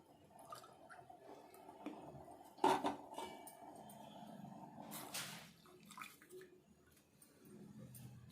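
A cup and a half of milk is poured into a pot of simmering water for ginger and black pepper tea, giving a faint, quiet liquid splash with a couple of soft clinks and a brief rush midway.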